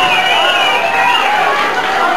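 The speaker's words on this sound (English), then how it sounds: "The crowd yelling." A 1982 wrestling crowd at Ric Flair versus Art Crews yells in a steady, loud roar of massed voices that fills the whole moment without breaks.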